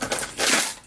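Jerkbait fishing lures rattle and clatter inside a tackle box in a brief, dense burst of hard plastic-and-metal jangling, close and fairly loud.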